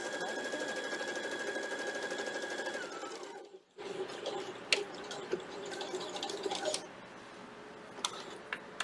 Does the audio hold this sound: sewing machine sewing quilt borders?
yes